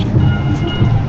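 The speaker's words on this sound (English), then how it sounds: "And here's the train." A train passes near a street protest, its steady low rumble filling the short stretch at constant loudness, with no voices over it.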